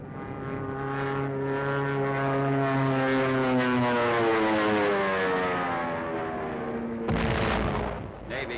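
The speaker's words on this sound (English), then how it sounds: "Corsairs drop napalms." Propeller-driven Corsair warplanes roar overhead in 1945 wartime combat footage, a loud sustained drone whose pitch slides downward as they pass, followed by a sudden heavy burst of noise near the end.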